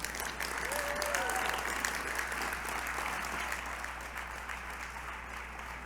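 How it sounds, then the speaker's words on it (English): Sustained audience applause at an anniversary gala for Books For Africa, honoring Tom Worth; a steady, moderately distant wash of many hands clapping throughout, with a faint whistle near the start. "Please give him a thunderous round of applause for Tom Worth."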